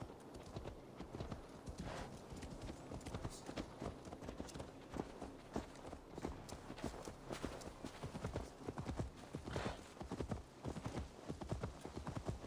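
Horse hooves clip-clop steadily in Assassin's Creed Valhalla, a continuous rhythmic run of hoofbeats at close range with faint game ambience and no talk.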